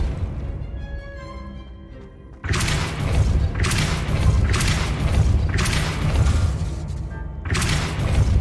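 Depulso force spells from the Hogwarts Legacy video game land as a run of heavy booming thuds, about one per second, loud and close after a quieter stretch of ambient game sound.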